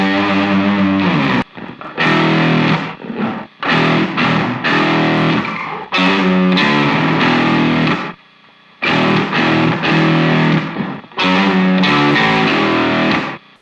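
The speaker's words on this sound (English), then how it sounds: "So you can hear it's adding more distortion to the signal." An electric guitar played through a Safari Pedals Dirty Dog overdrive plugin gives loud, gritty distorted chords and riffs in sustained phrases broken by brief gaps, up close with no talking.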